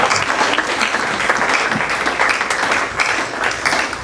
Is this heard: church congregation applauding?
yes